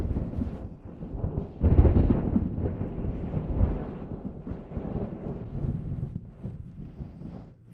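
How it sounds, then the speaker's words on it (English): Loud rolling thunder from a storm rumbles through the whole stretch, with deep swelling booms and a steady low roar of rain or wind behind it, heard from indoors. "The thunder is just too loud today."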